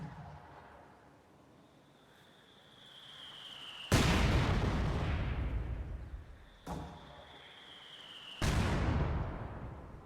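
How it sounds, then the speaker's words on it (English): Mortar rounds striking the battlefield in a World War II strategy game, two heavy booming impacts a few seconds apart, each a sudden loud burst that rumbles and fades out, over a low continuous battle ambience. "Mortar fire coming down in the middle."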